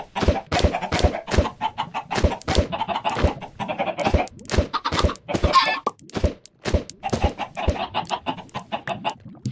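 Minecraft chickens cluck in short, choppy bursts, repeated irregularly throughout, loud and close, mixed with sharp clicking game noises and no speech.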